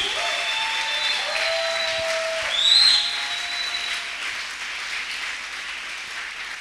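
A church congregation applauds and cheers in praise, a steady wash of clapping with a brief whistle-like cry rising near the middle before the applause slowly thins out.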